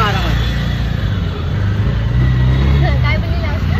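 An auto rickshaw rolls along at night between Virar and Andheri, its steady low engine drone and road rumble filling the cab while voices chatter over it.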